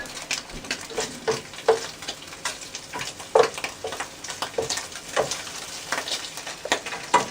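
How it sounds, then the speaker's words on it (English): Bacon frying in a pan and starting to burn on one side, a continuous crackling sizzle with sharp pops and spatters scattered throughout, close up with no voices. "Bacon's starting to burn on one side,"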